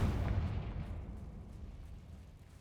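Confringo fire spell explosion in the Hogwarts Legacy video game: a single deep, rumbling boom that swells at the start and fades over a couple of seconds, with faint crackles after.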